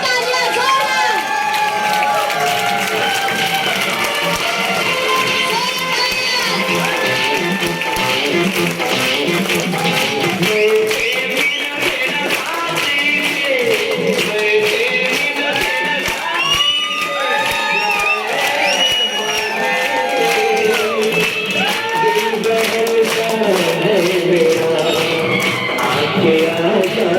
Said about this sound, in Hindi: ऐसे CTC plus platinum Umesh Chauhan sir के लिए जोरदार तालियां, जोरदार